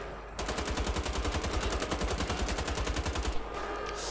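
Rapid automatic gunfire from the World War II shooter Wolfenstein: The Old Blood, a steady loud burst of evenly spaced shots lasting about three seconds before cutting off.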